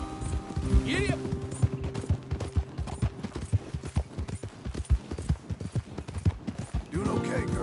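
Horses galloping in a PS4 video game, rapid rhythmic clip-clop of hooves close and loud throughout, with voices talking over them and a brief neigh-like call near the end.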